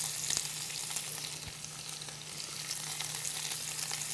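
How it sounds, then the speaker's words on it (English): Food sautés with rosemary in a Cuisinart MSC-800 Cook Central multi-cooker, giving an even, close frying sizzle and a soft steady hiss with light crackles throughout and no voices. "toss that around a little bit, saute it for about 6 to 8 minutes"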